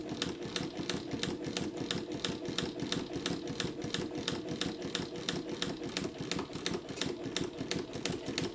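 Mauzer Mannan International chain stitch machine stitching a patch on felt, a fast steady mechanical chatter of regular needle strokes over a low motor hum, close and continuous throughout.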